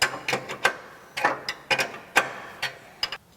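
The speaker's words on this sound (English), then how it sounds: "Now I'm using 2 3/4 wrenches to tighten the bolts here at the brackets on the oil pan skid." Wrenches tighten bolts on the brackets of a diesel oil pan skid plate, giving a series of crisp metallic ratcheting clicks in short irregular bursts, close up with no talking.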